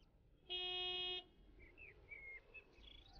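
A truck horn blares in one clean, steady tonal honk lasting under a second, moderately loud, followed by faint chirping and quiet ambience.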